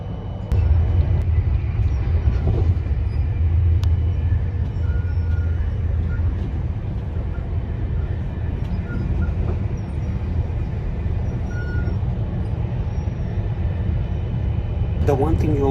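A Swiss train runs from the Alps toward Geneva, giving a steady low rumble with faint rattles and clicks throughout and a brief higher squeal near the end, no voices.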